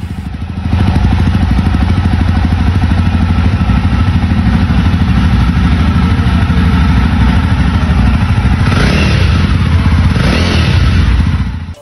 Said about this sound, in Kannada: ಈಗ ಈ ಬೈಕ್ನ ಎಕ್ಸಾಸ್ಟ್ ಸೌಂಡ್ ಹೇಗಿದೆ ಅಂತ ನೋಡೋಣ ಬನ್ನಿ.